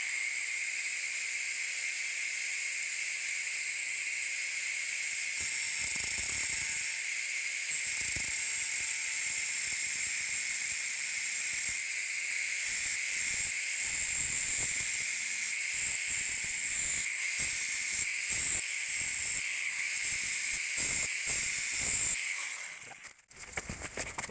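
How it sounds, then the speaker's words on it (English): A cutting tool, likely a grinder, scores the race of a Subaru wheel bearing in a loud, continuous high-pitched hiss and whine that runs nearly unbroken for over twenty seconds before cutting off abruptly. "I'm going to cut a score in this race so that I can chisel it off"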